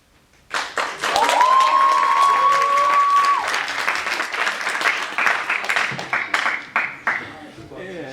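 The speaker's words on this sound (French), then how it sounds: "J'ai des fourmis en main à force d'applaudir." An audience applauds after a theatre performance, a dense, sustained clapping crowd that gradually thins into scattered claps, with a voice briefly heard over it.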